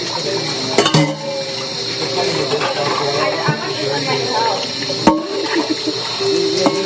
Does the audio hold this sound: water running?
yes